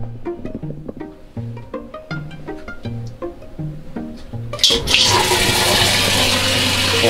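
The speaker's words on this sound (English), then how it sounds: "And you see I'm capturing the water in a pitcher." An RV shower is turned on with a rush of water streaming into a pitcher, a loud steady splash that starts abruptly partway through after some earlier tonal knocks and clicks.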